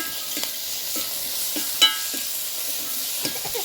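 Crushed ginger sautéing in a pan for a drumstick (murungakkai) stir-fry, giving a steady soft sizzle with a few light scrapes of stirring, including one brief sharper clink partway through, with no one talking.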